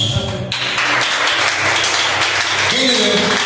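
A Baptist church congregation applauds during a sermon, a dense, close burst of clapping that swells and lasts a couple of seconds while voices carry on over it.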